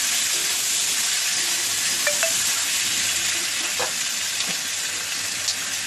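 Chopped tomato fries with softened onions in a pan, giving a steady, close sizzle and hiss, with a few faint utensil clinks and stirring sounds.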